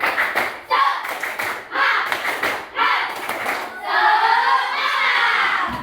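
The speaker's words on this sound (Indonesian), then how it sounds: "Sekali lagi, tepuk semangat." Schoolchildren repeat the 'tepuk semangat' clapping chant in class, rhythmic clusters of claps and thumps between chanted shouts, closing with a sustained collective yell.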